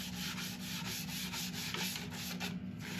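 Steady, continuous rubbing hiss of abrasive pressed by hand against a large laburnum wood vase spinning on a lathe, loud and unbroken over a constant motor hum.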